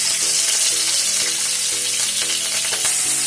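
Fish pieces frying in hot oil in a pan, a steady close bubbling sizzle with soft crackles running throughout, no voices.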